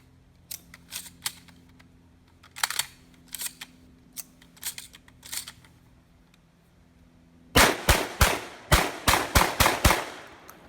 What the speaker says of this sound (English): All 9 shots of low recoil stuff out of the Girsan MC312